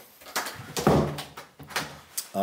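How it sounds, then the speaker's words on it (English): An interior door in a one-story ranch home is pushed shut, giving a few soft thuds and a latch click at close range, with brief muffled movement sounds around it. "Sorry, I'm going to close this door."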